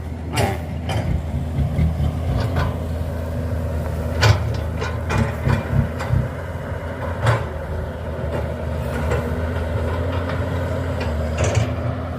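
A Hitachi EX200-1 excavator with an Isuzu engine runs with a steady low diesel rumble close by, broken by scattered metallic clanks and knocks from the machine working outdoors.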